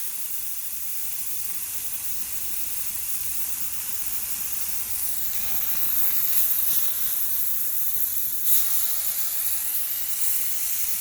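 Food sizzling on a Blackstone 36 Pro griddle just after being flipped, a steady hiss throughout with a slight swell in the middle, no talking.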